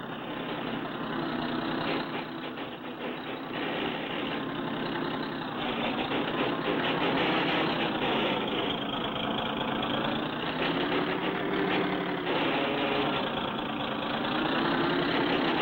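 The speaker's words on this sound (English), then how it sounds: "That car will pull us right up." A cartoon car engine drones steadily as it pulls people up on a rope, a continuous buzzing motor tone that wavers in pitch and never stops.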